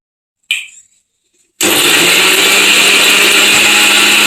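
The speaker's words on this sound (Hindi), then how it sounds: "तो आपको मिक्सर जार के अंदर प्याज टमाटर डाल लेने हैं।" Mixer grinder blending cooled sautéed onion and tomato into a puree, a loud, steady whirring roar that kicks in abruptly after a brief clatter and runs continuously to the end.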